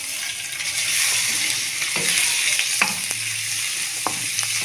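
Chicken fries in a tablespoon of oil in a pan, a loud, close, continuous hiss and sizzle with occasional sharp clacks and scrapes of a utensil stirring it, no talking.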